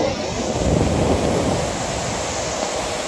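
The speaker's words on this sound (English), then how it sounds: "Surf has definitely increased," Heavy ocean surf breaking on a Volusia County beach in Florida gives a loud, continuous roar of crashing waves and wash, with steady wind noise and no voices.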